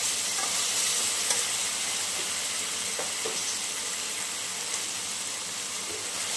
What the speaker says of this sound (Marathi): याला पण छान आपण असं दोन मिनिट तरी आपण याला फ्राय करूया